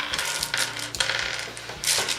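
Dice tumbling across a tabletop during miniature wargaming: a few quick bursts of small hard rattling clicks, close and clear, with no talking.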